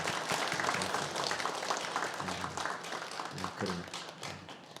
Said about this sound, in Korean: 큰 박수로 위로와 격려를 드리겠습니다